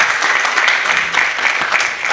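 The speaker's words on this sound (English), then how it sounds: "clap for yourselves for being such a wonderful audience" An audience at a literary panel on writing across generations claps for itself, a full, even patter of many hands sustained at close range with slight surges.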